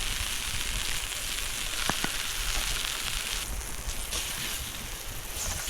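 A ribeye steak seasoned with salt, pepper and garlic powder sizzles on a hot stainless steel camp griddle outdoors, giving a steady, close, crackling hiss throughout with a few sharp pops.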